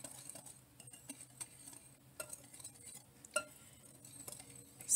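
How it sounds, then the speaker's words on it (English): A whisk clinks and taps irregularly against a bowl while it stirs seitan dry ingredients, with quiet scraping strokes and a louder knock at the end. "I'm going to whisk this up"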